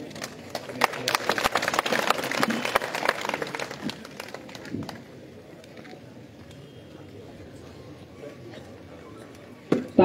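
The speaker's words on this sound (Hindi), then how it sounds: "तालियां बजाओ जी, तालियां।" A crowd at an election rally claps in a burst of scattered applause that fades after a few seconds, followed by a quieter murmur of people in the background.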